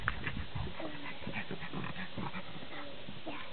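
Puppies pant quickly at close range, breathy rhythmic huffs broken by thin, rising whimpers and small whines, fairly quiet throughout.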